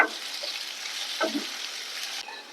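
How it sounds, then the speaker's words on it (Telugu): Potato pieces frying in an uncovered pan with a steady broadband sizzle, broken by a few scraping stirs of a spatula; no voices. "ఈ బంగాళదుంప ముక్కల్ని మూత పెట్టకుండానే కలుపుకుంటూ ఫ్రై చేసుకోవాలి"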